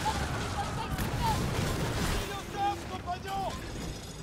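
Ship cannon fire in the pirate naval game Skull and Bones: dull booming shots and rumbling blasts over sea and wind ambience, with a player talking through it.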